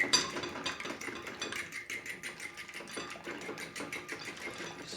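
An egg wash for a shrimp po'boy being whisked in a bowl, rapid steady clicking of the whisk against the sides, close and fairly quiet, with no talking.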